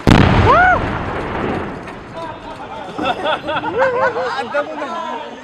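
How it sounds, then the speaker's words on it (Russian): Explosive charges go off in a building demolition attempt in Sevastopol, which leaves the structure standing: a loud, sharp blast at the start rolls into a fading rumble, and voices chatter and call out over the aftermath. "пытаются избавиться при помощи взрывчатки, но здание не поддается даже со второго дубля"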